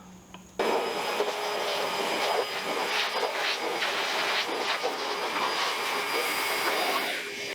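A Ryobi blower drying off a washed car, a steady loud broadband rush of air that starts abruptly after a brief quieter moment and holds level to the end.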